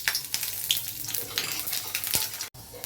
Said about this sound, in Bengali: কড়াইয়ে তেল গরম করে নিয়েছি, এবার কিছুটা পাঁচফোড়ন দিয়ে দিলাম।